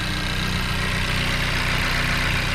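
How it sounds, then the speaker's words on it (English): Idling engine of a 2020 Honda Civic Si fitted with a PRL Cobra cold air intake, heard up close in the engine bay as a loud, steady hum with fast rhythmic ticking. "Clickety click in the engine bay though. Sounds like a freaking cricket, loud as hell."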